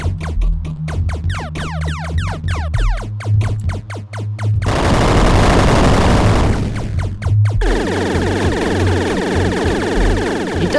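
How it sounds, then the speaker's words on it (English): Gunfire and a missile barrage in the space shooter game Pixel Star: rapid loud bursts of shots, then a dense roaring wash of explosions, then sustained firing continuing without speech. "send a barrage of missiles every once in a while"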